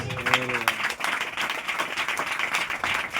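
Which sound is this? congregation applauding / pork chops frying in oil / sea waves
congregation applauding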